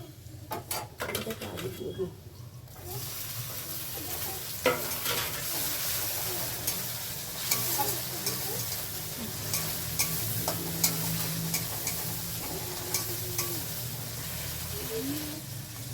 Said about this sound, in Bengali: মশলাটা দিল কষিয়ে কষিয়ে।